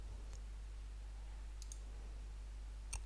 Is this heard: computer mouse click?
yes